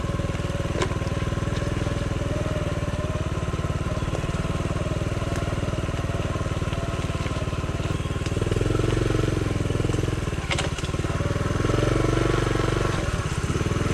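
A small Honda Trail CT70 motorcycle rides through woods, its engine droning steadily and close throughout, with the pitch rising as it labors in a couple of spots and some brush crackling along the way.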